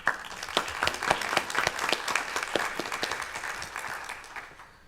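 An audience at a community benefit agreements symposium applauds: a few seconds of close, crisp, uneven clapping from a modest crowd that tapers off toward the end.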